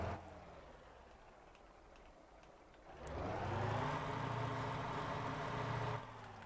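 A semi truck in the driving game Motor Town, its engine idling low at first and then revving up into a steady, louder drone as it pulls away before dropping off at the end, no voices.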